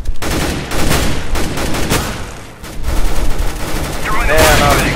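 Auto sniper rifle gunfire in Counter-Strike: GO, a rapid series of loud, sharp shots in uneven bursts, with other game sounds and a brief chirping effect near the end.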